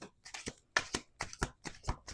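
A deck of playing cards being shuffled on a table at close range, with a series of quick riffling bursts separated by short pauses and no voices.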